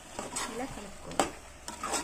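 Milmaker soya chunks and ivy gourd curry get stirred in a pan, with soft scraping strokes and a faint sizzle underneath, quiet and close.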